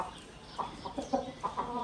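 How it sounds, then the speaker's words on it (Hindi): Aseel rooster and hen resting in shade, clucking softly in short intermittent calls, fairly faint and close, with no talking over them. "गर्मी है ना, तो मुर्गी और मुर्गा आके खुरली में ना छाँव में बैठे हुए हैं।"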